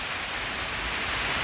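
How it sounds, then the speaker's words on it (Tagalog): Sudden rain falls steadily, a dense, even hiss of drops on surfaces that fills the short stretch without pause, with no voices. "Hindi ko po inaasahan na uulan"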